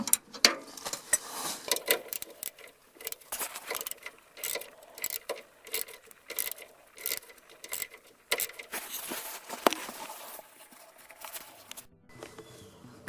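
A hand wrench ratchets at a sway bar bushing bolt on a Dodge van, a steady series of sharp metallic clicks in irregular bursts, close up, with no talking.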